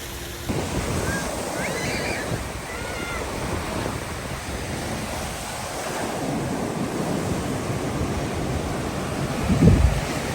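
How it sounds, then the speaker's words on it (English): Rough surf churns at a Gulf Coast beach, a continuous loud wash of breaking waves mixed with wind buffeting the microphone, with no one speaking. "Those waves are no joke right now."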